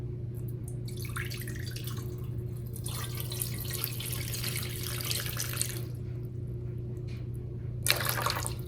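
Warm water for pizza dough is poured from a measuring cup into a bowl in a kitchen, a thin liquid trickle with a few drips over a steady low hum, with no speech.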